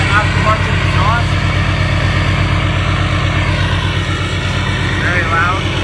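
A 2012 RAM 3500 Laramie Longhorn four-wheel-drive pickup with an aftermarket exhaust idles with a deep, rumbling exhaust burble, loud and steady throughout, with faint voices underneath.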